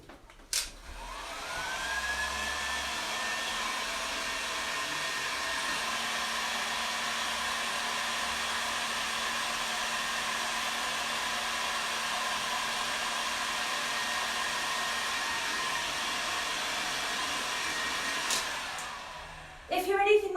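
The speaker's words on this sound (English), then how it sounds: "I'm going to blast this with a hairdryer." A hairdryer blasts steadily for close to twenty seconds to dry paint, a constant whooshing whine that starts abruptly and stops near the end, with no talk over it.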